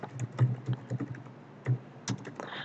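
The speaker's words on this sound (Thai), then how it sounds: "เราก็พิมพ์แนะนำตัวเองนะครับ" A student types a self-introduction on a computer keyboard in Google Classroom. The keystrokes are sparse, close and distinct, arriving in uneven clusters with gaps, and no one speaks.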